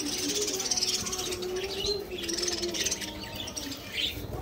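Pet birds chirp and tweet in quick bright bursts during cold winter weather, several calls overlapping close by against a steady background hum.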